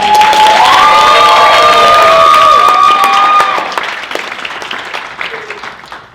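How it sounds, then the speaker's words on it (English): A pageant audience erupts in loud applause and cheering for the contestants, with high shouts and whoops riding over sustained clapping that fades into scattered claps after a few seconds. "Give all of our contestants another round of applause."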